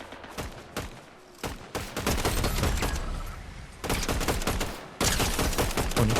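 Gunfire in a shooter video game, with sharp shots that start sparse and build into dense, sustained bursts of rapid automatic fire, loud and close, broken by brief pauses.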